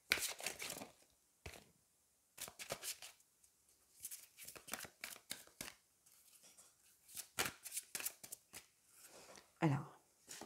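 Angel oracle cards being shuffled and drawn, brisk papery riffles and flicks in short separate bursts, close and fairly quiet, with a person talking softly between them.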